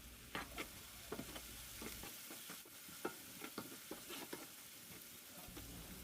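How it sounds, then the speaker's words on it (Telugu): Onions and green chillies with salt and turmeric frying in a pan for tindora masala, a steady close sizzle broken by repeated scraping strokes of a spoon stirring through the mix. "తర్వాత ఇందులోకి సరిపడా ఉప్పు, తర్వాత పసుపు వేసుకొని ఒకసారి అంతా బాగా కలుపుకోవాలి"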